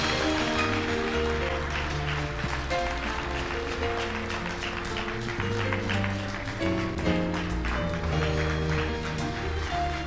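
A church congregation claps steadily at a Sunday service, with sharp, rapid, fairly loud hand claps over sustained organ or keyboard chords and a low murmur of voices.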